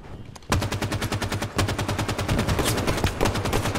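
Rapid automatic gunfire from the Halo 5 video game rattles in fast continuous bursts, with a heavier shot near the start. It sounds fairly close under game ambience and nobody talks.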